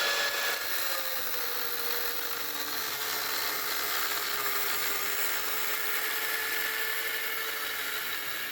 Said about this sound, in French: je vais couper ici et je vais monter le morceau d'échappement